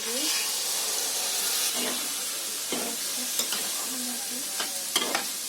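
Sizzling okra fried with turmeric and chili powder in a hot pan on a gas stove as water is added, giving a steady broad hiss with scattered clinks and scrapes of stirring close by.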